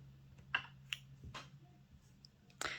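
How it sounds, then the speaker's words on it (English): A few quiet, crisp scissor snips trim yarn close by, separate little clicks with soft pauses between them, against a faint background hum. "and trim with scissors."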